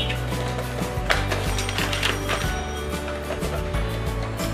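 Product box for a Kemei KM-631 beard trimmer being opened by hand, giving close, dry clicking and scraping cardboard and plastic rustle with no talk.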